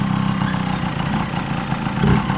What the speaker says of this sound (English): you'll hear the bike start to pick up in RPM